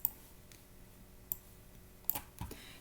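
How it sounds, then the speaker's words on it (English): Calculator buttons pressed in a few sparse, sharp clicks spread over about three seconds, quiet and close, with no talking. "4 times 2/3, I can type that into a calculator."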